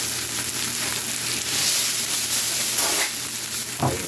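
Coffee-rubbed T-bone steak sizzles steadily in a hot pan, a dense continuous frying hiss close by with a brief louder spit near the end, no talking.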